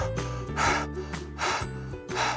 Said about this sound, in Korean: 제 숨소리가 들리실 텐데요.